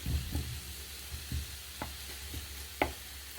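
Vegetables and peppers cooking in a pan for Cypriot eggs with vegetables, giving a faint, steady sizzle with soft stirring clatters and a few sharper utensil knocks, no talking.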